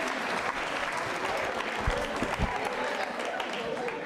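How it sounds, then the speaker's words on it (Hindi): An audience at a Jain Social Group quiz show claps steadily and loudly throughout, a dense continuous applause with no breaks. "आप जोरदार तालियां बजाइए साहब।"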